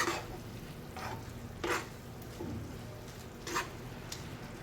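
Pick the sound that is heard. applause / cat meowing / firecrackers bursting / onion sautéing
onion sautéing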